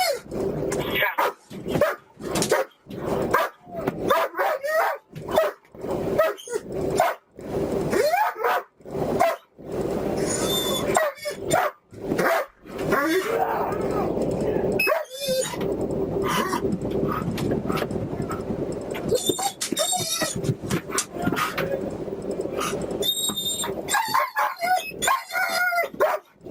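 An old dog barks excitedly in repeated loud bursts, with yips and growls between them and people talking in the background.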